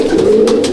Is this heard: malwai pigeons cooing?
yes